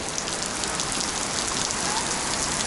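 Steady, dense rain patters onto pavement close by in warm Florida weather, a continuous hiss of drops with no voices.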